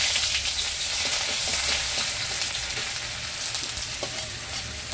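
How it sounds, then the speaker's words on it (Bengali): Sliced onion sizzles in hot oil in a pan while an egg chop is being made. The frying hiss is loud and steady throughout, with no one talking. "আমার তেলটা গরম হয়ে গেছে। এখন আমি দিয়ে দেবো পেঁয়াজ"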